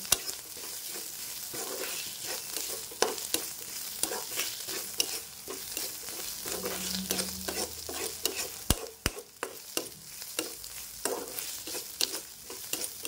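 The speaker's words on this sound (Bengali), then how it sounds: "একটু নাড়াবো ভালো করে, যাতে আদা রসুনের যে কাঁচা গন্ধটা থাকে না, সেই গন্ধটা যেন না থাকে।" Ginger-garlic paste being stirred in a frying pan, with a spoon scraping steadily and a soft sizzle underneath, repeated clinks and scrapes running throughout at close range, no voices.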